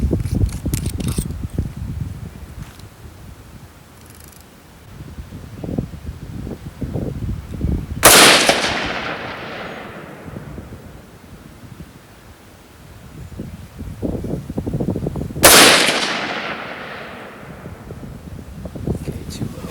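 Two sharp rifle shots from a 6.5 Grendel firing American Eagle 90gr TNT JHP ammunition crack several seconds apart outdoors, each with a brief decaying tail, between stretches of wind noise and faint handling sounds.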